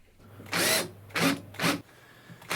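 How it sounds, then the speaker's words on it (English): A lathe drills a 5mm hole into metal in three short bursts with brief pauses between them, close and fairly loud. "Now I'm drilling a 5mm hole straight through."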